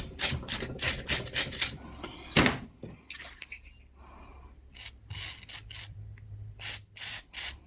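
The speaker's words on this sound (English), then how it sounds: "I'm a terrible shot with this spray gun." Repeated short hissing bursts of a spray gun, close by, in quick rhythmic squirts with pauses between them, while stripping a Suzuki DR200 donor motorcycle.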